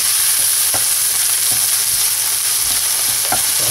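Onion sautés with garlic and ginger for chicken sisig, a loud, even sizzling hiss close up, with a few soft stirring knocks against the pan and no talking.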